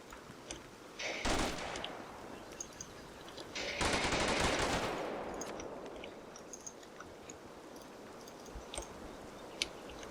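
Rifle and automatic gunfire in the war strategy game Combat Mission Black Sea: two bursts of rattling fire, the second longer and heavier, then scattered faint distant shots over a low ambient rumble.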